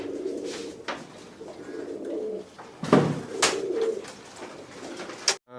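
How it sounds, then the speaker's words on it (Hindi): A champion-bloodline pigeon coos up close in a few distinct, throaty phrases, each swelling and fading, with short gaps between them and no talk over them. "ये भी चैंपियन ब्लड लाइन का कबूतर है"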